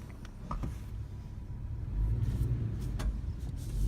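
A few brief mechanical clunks and clicks as a 4x4 transfer case disengages over a steady low vehicle idle, then a soft whirring under the engine rumble.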